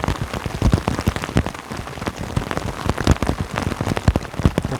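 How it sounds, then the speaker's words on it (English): Heavy monsoon rain pounds a taut tarp close by in Guadalupe Mountains National Park, a dense continuous patter with loud irregular drops drumming throughout. "Monsoon season. It's not just a little rain,"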